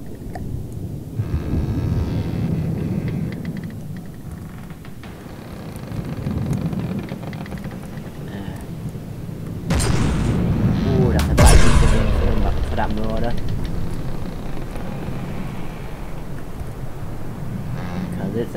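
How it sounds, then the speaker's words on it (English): Artillery shells fire and land in the From the Depths naval combat game, heavy booms and rumbling blasts over a dense roar of battle, with a louder burst of impacts midway and someone talking over it. "13 shells raining down on it"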